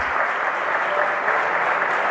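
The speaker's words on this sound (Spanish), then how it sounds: "Yo por aquí le daba otro aplauso más, porque eso tiene mucho mérito." Steady, dense audience applause at a talk on bullfighting in Spain, a continuous wash of many hands clapping at even loudness throughout.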